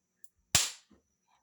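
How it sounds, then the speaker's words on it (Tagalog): Cacao beans roasting in a pan give one sharp, loud pop that trails off quickly, with a couple of faint ticks around it. "Pumuputok, natatanggal sila sa balat."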